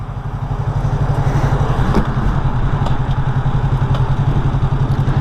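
A motorcycle engine idles with a fast, steady, rough clatter, loud and close, running unevenly as though something is wrong with it.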